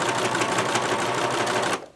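A serger stitches fabric with elastic fed in, giving a fast, loud, steady mechanical whir up close that stops abruptly near the end.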